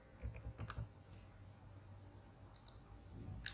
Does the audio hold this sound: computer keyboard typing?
yes